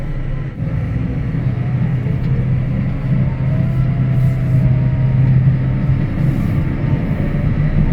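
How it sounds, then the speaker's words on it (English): A smooth, steady engine drone with a low hum from a Claas Arion tractor runs continuously, quiet and even, like idling or cruising along. "It's a very smooth running tractor, very quiet."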